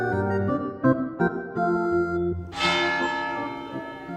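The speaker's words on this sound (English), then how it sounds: "The clock tower tolls its bell for the townsfolk every hour." A clock tower bell on Krepostnaya Street tolls, its resonant strikes ringing out and decaying slowly in the open air, with a brighter, louder stroke about midway through.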